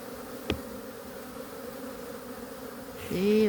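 Bees buzz steadily close by in a continuous drone, with a sharp click early on and a louder, rising buzz as one passes near at the end.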